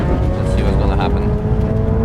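Golf 8 R in Assetto Corsa EVO spinning its wheels in drift mode, a loud, steady engine drone with tire noise, heard under someone talking.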